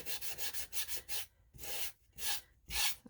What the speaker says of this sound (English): this is a 320 grit sandpaper, and I'm just going to go over the top